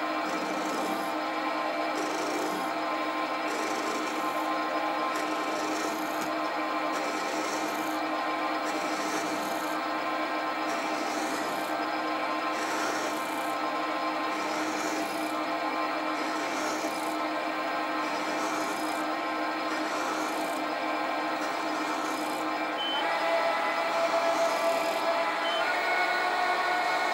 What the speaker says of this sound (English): I'll continue turning it down until I get to